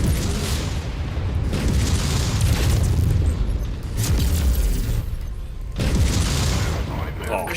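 Missile explosions in MechWarrior 5 come as a sustained, dense roar of booming blasts and rumble, swelling in several loud waves with brief dips between them, all close and heavy in the low end.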